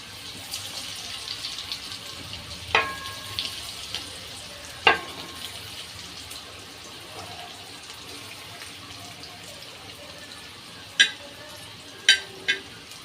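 Stuffed pointed gourd (parwal) and potato frying in hot oil with cumin and garlic, a steady close sizzle with a few sharp clinks from stirring scattered across it.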